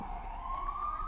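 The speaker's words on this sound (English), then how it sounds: "oh, I'm sorry if you can hear that siren." An ambulance siren sounds out on a street, a faint, distant wailing tone rising slowly in pitch over steady low background rumble, with no one talking.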